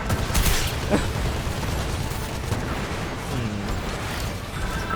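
Gunfire in a Gundam video game, dense rapid bursts of shooting and explosive blasts throughout, loud and continuous, with a few faint voice sounds underneath.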